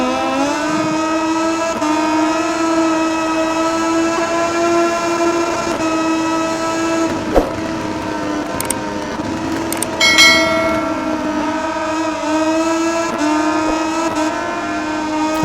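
Engines of pursuing Moto2 motorcycles in the MotoGP20 racing game drone steadily with a sustained tonal whine throughout, with a brief sharp click midway and a short burst of brighter noise later, and no talking.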